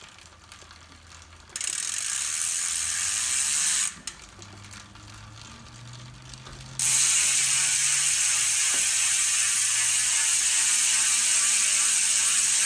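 An i9 single-speed boost hub freewheels on a titanium Carver Gnarvester wheel, giving a fast, even ratcheting buzz that swells loud, drops back quieter, then returns louder and steady for the remaining seconds.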